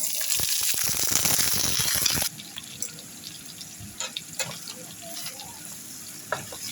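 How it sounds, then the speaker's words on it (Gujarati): Mustard seeds sputter and crackle in about two spoonfuls of hot oil in an iron pan on a gas stove, a loud dense sizzle at first that drops to a quieter frying hiss with scattered pops, while a person talks. "તેલમાં રાઈ નાખી દઈશું,"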